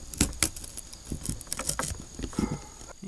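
A green-to-woody weed stalk from a backyard being cut open, giving a few sharp, crisp cracks and snips close by with short pauses between, and no voices.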